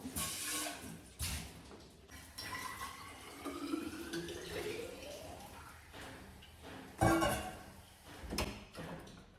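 Water running from a tap into a vessel for drinking water, the pitch rising as it fills, with a few clinks and knocks nearby.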